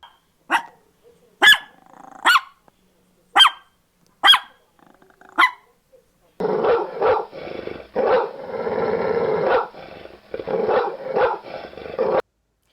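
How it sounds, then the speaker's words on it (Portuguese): A dog gives about six sharp, separate barks with pauses between them, then breaks into a continuous rough growl punctuated by short bark-like bursts, all close and loud. "o tamanho do corpo do cachorro através do latido ou do rosnado dele"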